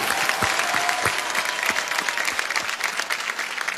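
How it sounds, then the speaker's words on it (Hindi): An audience breaks into loud, sustained applause for scientists, dense rapid clapping from a crowd that stays steady throughout with no talking. "उनके लिए एक जोरदार ताली बनती है सर"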